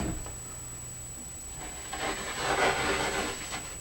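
A ski's steel edge gets deburred with soft, rasping rubbing strokes that build in the second half, close and fairly faint under a steady high whine.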